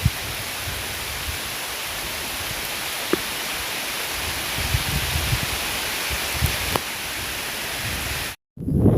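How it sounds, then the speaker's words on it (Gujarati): Steady rain pours over farmland during the monsoon, a dense continuous hiss with a few faint taps, ending in a sudden brief silence. "હવે તો રેડા ચાલુ થઈ ગયા છે વરસાદના, ટહક ટહક ટહક."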